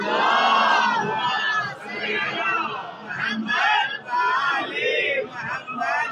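A Shia congregation at a majlis for Ayam Fatimiya loudly recites salawat together, a massed chorus of voices chanting in unison in loud swelling phrases, with crowd shouting between them.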